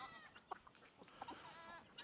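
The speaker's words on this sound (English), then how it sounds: "All right, we're gonna let the goats in." Goats and young kids on a farm bleating softly at a distance over a steady background hiss, with scattered short calls and a faint rooster-like cry.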